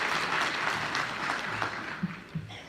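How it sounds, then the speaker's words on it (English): Steady applause from an audience welcoming the executive mayor at a renewable energy event in De Aar, continuous clapping that thins toward the end. "Can we welcome her with a round of applause"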